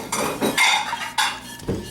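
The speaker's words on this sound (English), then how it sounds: "I can't hear over his dishes." Dishes and cutlery clatter while being washed, with several sharp clinks and scrapes of metal and crockery in quick, irregular bursts close by.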